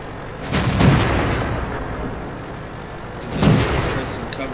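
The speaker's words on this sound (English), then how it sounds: "Give them some cover fire." Two heavy booming tank gun shots from a World of Tanks battle, one near the start and another about three seconds later, each with a long rumbling tail over steady battlefield noise.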